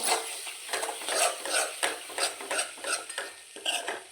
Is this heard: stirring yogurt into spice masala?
yes